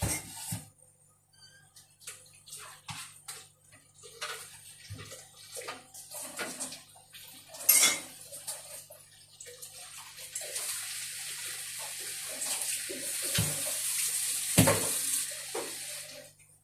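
Running tap water splashing steadily as something is rinsed and handled beneath it, with intermittent clinks and rustles, the flow growing louder and fuller in the second half.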